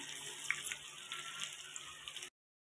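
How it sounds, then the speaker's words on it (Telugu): Chicken pakoda pieces deep frying in hot oil sizzle with a steady, close, dense hiss and a few sharper pops, with no talking. "వేసుకొని డీప్ ఫ్రై చేసుకోవాలి"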